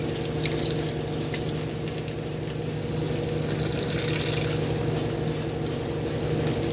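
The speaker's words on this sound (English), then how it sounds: "I'm going to get the sock soaking wet." Water runs steadily from a tap in a GE belt-drive washer to soak a sock, a constant splashing hiss under a low mechanical hum, no voices.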